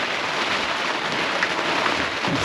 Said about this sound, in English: It started raining just as we moored up.